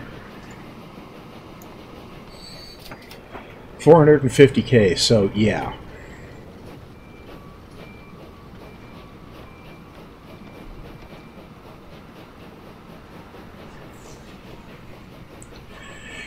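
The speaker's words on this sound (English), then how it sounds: "Okay, here's the stone train." A stone train rolling through in the game Transport Fever 2, a brief two-second surge of clattering rail noise over a steady low hum while someone talks.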